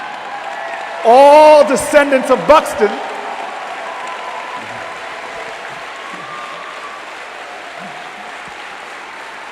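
A crowd of people cheers and applauds at an Iowa Democrats event, a short loud burst of clapping and whoops that fades into scattered claps, while someone speaks over a PA in a large hall.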